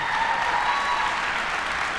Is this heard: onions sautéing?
no